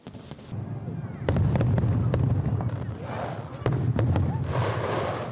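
Fireworks bursting over an ice and snow festival, a run of sharp cracks and booms with rumbling echoes over crowd noise and voices, loud and fairly close.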